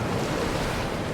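Steady ocean waves wash in a constant, full roar with a windy edge, no breaks or talk.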